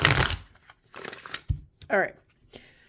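Cards being shuffled in quick riffling bursts, with a voice speaking briefly between the shuffles, close and fairly loud.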